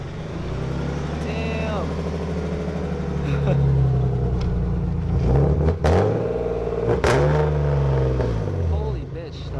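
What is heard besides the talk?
BMW E30 with M50 engine swap starting and revving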